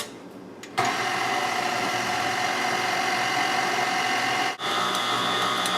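Electric hand mixer running on low speed through tres leches cake batter: a steady, close motor whir starts abruptly and continues evenly, with one brief dip near the end.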